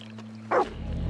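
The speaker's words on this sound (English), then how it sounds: "That's my dog, Oregano" A dog in the video game Red Dead Online gives a single short, sharp bark, close and clear over a quiet game hum.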